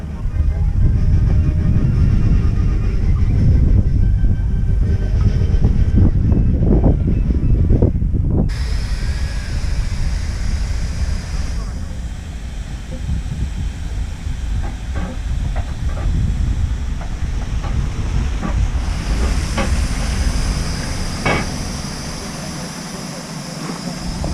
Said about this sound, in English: I'm just going to show you some of the steam engines.